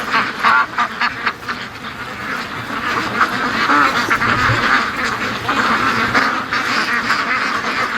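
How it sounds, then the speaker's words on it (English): A flock of ducks quacks continuously and loudly close by in the morning on the way to a lake, overlapping calls forming a busy chatter with little pause. "Come on, ducks, we're gonna go down to the water."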